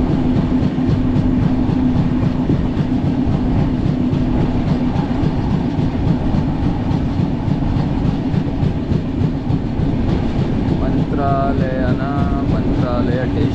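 A passenger train rolls steadily into Mantralaya Road station in India, its continuous loud rumble and wheel clatter filling the whole stretch, with a brief squeal of brakes near the end.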